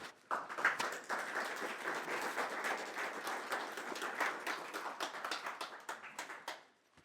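An audience claps steadily after a talk at a book launch. The applause is dense and sustained for several seconds, then fades out at the end, with no voices over it.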